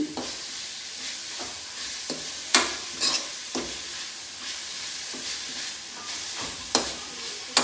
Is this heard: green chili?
yes